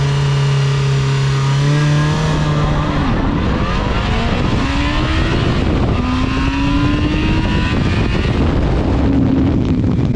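A Yamaha FZ6 motorcycle pulls away from a standing start, its engine note climbing sharply through the gears with brief dips at each shift, loud and close throughout with no voices.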